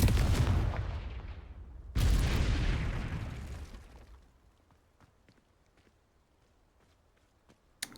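The Confringo fire spell in Hogwarts Legacy blasts twice in quick succession, each a loud booming burst that trails off into a faint rumble, followed by quiet soft footsteps.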